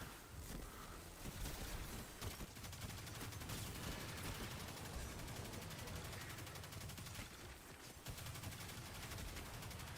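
Rapid gunfire shooting explosive orbs in the Destiny video game, a dense, continuous stream of shots and bursts over about ten seconds with no talking.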